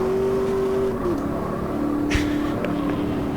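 A Chevrolet Camaro race car engine in Automobilista 2 holds a steady high-pitched drone, dipping in pitch as it shifts or lifts mid-corner, loud and continuous with faint tire noise.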